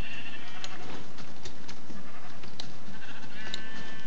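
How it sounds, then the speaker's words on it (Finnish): Sheep in the video game Minecraft bleat in several short, clear cries over steady game background ambience, with no talk. "Musta lammas."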